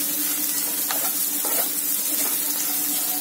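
A spoon stirs bitter gourd curry (akakarakaya kura) in a frying pan over a constant soft sizzle, with a few distinct scraping strokes close by and no talk.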